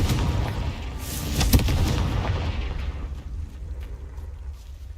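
A Confringo fire spell in Hogwarts Legacy gameplay bursts with a deep boom, followed by a rumbling tail that fades over a few seconds.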